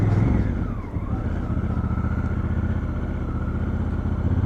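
A Honda Africa Twin CRF1000L runs off-road along a public bridleway, its engine a steady loud drone with a brief dip near the start, close and continuous with no voices.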